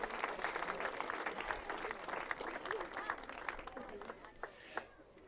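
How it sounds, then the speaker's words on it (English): A crowd at the Clarkston basketball state championship parade in 2017 claps in a faint, fairly distant burst of applause, with voices mixed in. "could you guys give yourselves, while I catch my prepared statement, a round of applause?"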